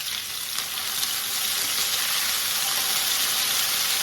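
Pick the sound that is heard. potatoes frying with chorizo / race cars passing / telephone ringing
potatoes frying with chorizo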